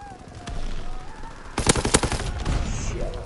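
Gunfire in Call of Duty WW2, a burst of rapid shots cracking out in quick succession after a quieter stretch of game noise, loud and close.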